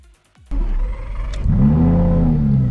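Lamborghini Superleggera with its V10 engine starts up after a few clicks, then revs hard with a loud, deep roar that rises and holds, close by and with no talking.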